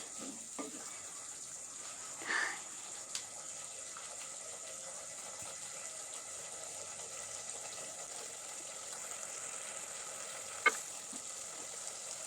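Dal, spinach and ghee frying in a pan, a faint, steady sizzle that runs continuously with a few soft clinks and stirring scrapes, and no talk.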